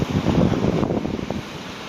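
Wind buffets the microphone on a beach, with a steady rushing roar of waves and surf underneath, loud and continuous with no one speaking.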